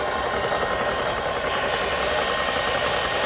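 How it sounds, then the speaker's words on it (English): A budget Vevor PCP air compressor runs with a continuous, even mechanical hiss and hum, steady and fairly loud throughout with no breaks. "It's time to go ahead and turn the compressor on."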